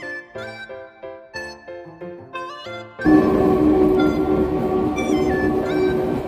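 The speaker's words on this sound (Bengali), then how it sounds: "এবারে দেখুন, একটি ফ্লাইওভারের পাশ দিয়েই আমাদের এই টয় ট্রেন চলছে।" The Shimla toy train runs past a flyover: a loud, steady rolling rumble with high squealing tones begins abruptly midway and continues to the end, after a few seconds of melodic chiming tones.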